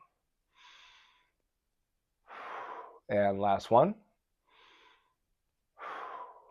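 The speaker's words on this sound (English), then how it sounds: "Slow exhale like I'm breathing out through a straw." Several slow, breathy exhales during a beginner Pilates flow, spaced a few seconds apart and close to the listener, with a short burst of instructor speech in the middle.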